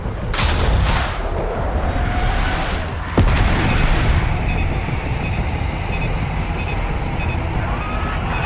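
Bombs explode in Call of Duty: Black Ops 6, two loud, booming blasts about three seconds apart, each trailing off into a heavy, continuous rumble of debris and battle noise.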